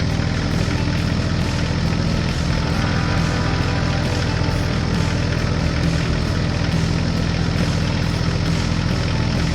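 A farm tractor crossing a snowy farmyard toward a field, its engine droning steadily and evenly in a low, continuous hum throughout, with no voices.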